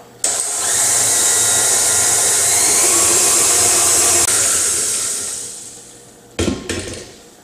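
Stand mixer fitted with a paddle beating cookie dough for Nutella white chocolate chip cookies, a loud steady motor whir with churning that runs continuously for about six seconds, then a brief clatter near the end.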